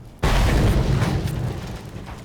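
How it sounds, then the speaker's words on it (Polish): A sudden explosion in the Mad Max video game, a loud, close boom that bursts in abruptly and rumbles on with debris and heavy low-end noise, slowly fading across the clip. "Jeszcze coś wybuchło."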